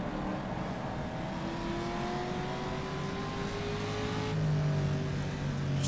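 A 1956 race car engine in rFactor 2 at Monza, nearing the Lesmo corners, drones loud and steady as its revs climb, then shifts abruptly near the end with a heel-and-toe downshift blip. No voices.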